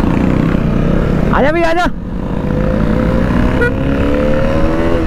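A Royal Enfield motorcycle accelerates at full power on the road, its engine droning steadily and climbing in pitch, while a voice shouts briefly over it near the start.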